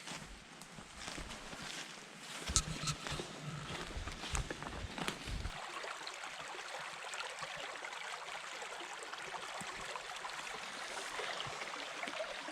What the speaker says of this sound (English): I hear a stream.